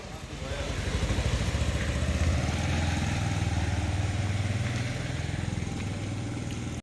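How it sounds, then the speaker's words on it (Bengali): A motorcycle rides through knee-deep floodwater on hospital grounds during heavy rain, its engine a steady, loud, close putter with rhythmic firing pulses, rising and then fading slightly as it passes. "আরেক ভাই মোটর সাইকেল নিয়ে যাচ্ছে"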